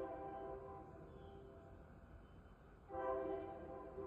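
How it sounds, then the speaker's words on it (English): A passing train sounds its horn, a sustained harmonic blast that fades, then returns louder near the end, over a low rumble of the train heard at a moderate distance. "And here comes a train."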